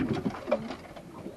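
Doves cooing in a breeding setup with a nesting mother bird and fresh hatchlings, a few soft low coos close by over faint background noise.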